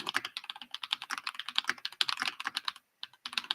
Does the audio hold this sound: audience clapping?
no